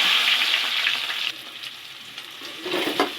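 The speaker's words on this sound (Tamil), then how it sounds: "கடுகு பொரிஞ்சிச்சு, வெங்காயம் போட்டுக்கலாம்" Mustard seeds crackle and spit in hot oil with a loud, bright sizzle. The hiss then drops as onions go into the pan, followed by quieter frying with a few stirring scrapes.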